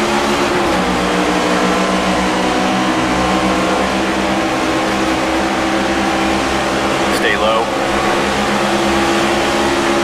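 Stock car engines in the NASCAR 25 video game at the Daytona 500 at night, a loud steady drone of several cars racing together with little change in pitch.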